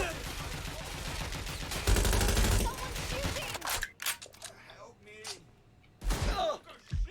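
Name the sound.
shotgun fire in the video game Watch Dogs Legion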